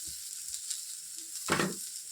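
Chopped onions and green chillies fry in oil for a North Karnataka pundi palya, making a faint, steady sizzle with one brief louder rustle from stirring near the end.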